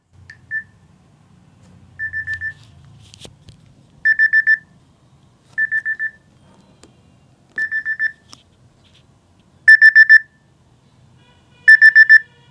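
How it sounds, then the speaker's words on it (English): A Samsung clock app timer alarm repeats its beep, heard over a phone loudspeaker. Short groups of rapid electronic beeps come at regular intervals, each group louder and sharper than the one before, with near silence between them. "That is how the beep repeats itself when the timer ends or when the alarm goes off."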